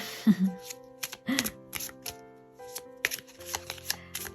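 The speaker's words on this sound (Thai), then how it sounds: "ไพ่ตกกระจัดกระจายเลยวันนี้" Tarot cards being handled and shuffled, with crisp riffles and soft slaps as they scatter across a surface, close and intermittent over a faint tonal background.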